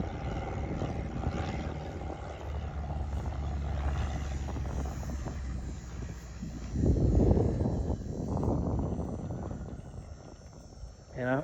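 Super Cub light airplane taking off from a grass strip, its propeller engine droning at a distance and swelling louder partway through before easing, with faint background sounds throughout.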